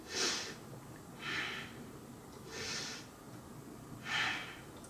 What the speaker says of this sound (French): 3 autres grosses respirations.